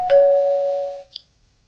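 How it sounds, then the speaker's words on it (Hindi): A single loud doorbell chime rings out and decays over about a second, followed by a faint short tone, then silence. "11:57 पर फिर डोरबेल बजी।"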